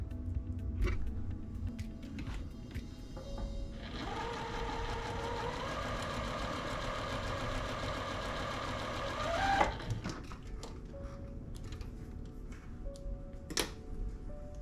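A sewing machine stitches quilt pieces together in one steady, fairly quiet run of about six seconds, with soft handling sounds before and after.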